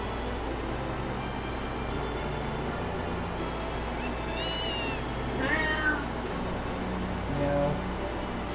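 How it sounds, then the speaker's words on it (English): A cat meows in the video game Harvest Moon: A Wonderful Life, a few short distant mews over steady game background music and ambience. "Oh, I heard the meow."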